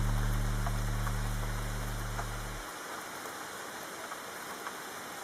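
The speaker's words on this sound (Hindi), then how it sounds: "बारिश फिर से शुरू हो गई थी।" Steady rain falls during a stormy night, a continuous broadband wash of drops at moderate level, with a low droning hum underneath that cuts out partway through, leaving the rain alone.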